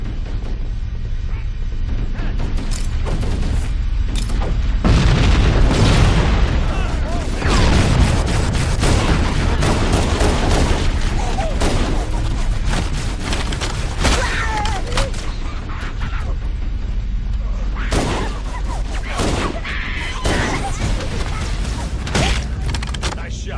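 Sustained gunfire and booming explosions fill a Halo: Combat Evolved campaign battle, dense and loud throughout with bursts of shots, while soldiers shout over the fighting.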